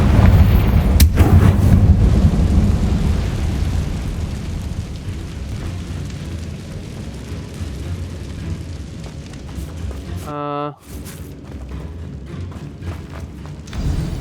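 Booming fire-spell blasts from the Confringo curse in the video game Hogwarts Legacy, a heavy explosive burst at the start followed by a rumbling, crackling roar and a sharp magical whoosh near the end.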